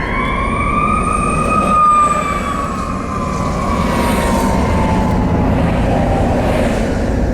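An ambulance siren wails loudly over traffic, its tone sweeping in long, steady rises and falls close by and continuing throughout with a constant rumble of vehicles beneath.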